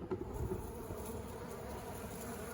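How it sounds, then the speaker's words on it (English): Honey bees feeding on sugar make a soft, steady, faint buzzing hum that carries on throughout with no pauses and no voices. "the bees are really working this sugar"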